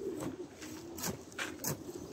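Pigeons coo softly in the background, a few low repeated calls with faint rustling between them.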